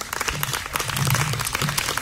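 Applause from an audience at a concert of a song festival, a steady broad patter of clapping filling the whole moment at moderate loudness without voices.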